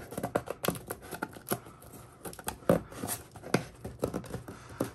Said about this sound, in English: Maybe I'm opening the box from the wrong way.